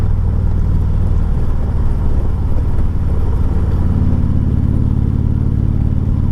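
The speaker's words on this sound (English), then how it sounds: "Pretty effortless turning around these curves, Harley Moonrider." A 2017 Harley Davidson Tri Glide Convertible with a lift kit rumbles steadily while riding through curves, a deep close engine drone mixed with constant wind noise and no pauses.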